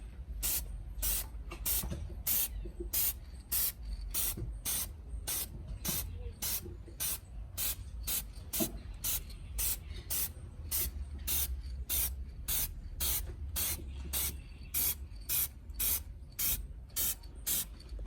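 Spray paint going onto a crashed car in repeated short bursts, a steady rhythm of hissing pulses over a low background rumble, close and fairly loud, with no talking.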